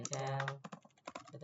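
A computer keyboard is typed on to enter a Linux terminal command, with a quick run of close, light key clicks after a held voiced sound.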